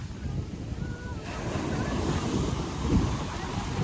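Heavy sea surf churns and crashes nearby on a beach before a typhoon, with wind buffeting the microphone, a steady rushing wash that swells toward the end.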